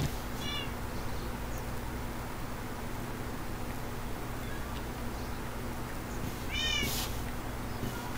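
Two short bursts of Minecraft cat meows, one near the start and one late, over a steady low hum and hiss in the video game.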